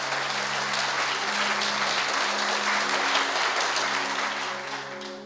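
Church congregation applauding, a dense continuous wash of clapping that holds steady for several seconds with a sustained tone beneath, then tapers slightly at the end.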